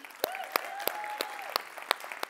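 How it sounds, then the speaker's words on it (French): A few people clapping in a slow, even rhythm, each clap sharp and distinct, with a faint steady tone humming underneath. "On les applaudit."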